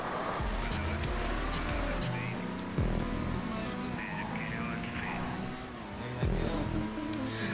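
Engine roar of a car driving in GTA over snowy Antarctic terrain, continuous and loud with bumps and thuds, while someone talks over it.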